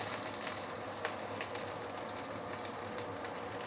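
Dried chili, ginger, garlic and shallot fry in hot oil in a wok, giving a steady, even sizzle that hisses on without pause throughout.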